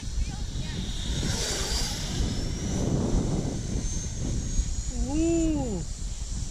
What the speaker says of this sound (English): The Hornet, I love their noise, man. the jets, the EDFs. EDF sounds like real jets.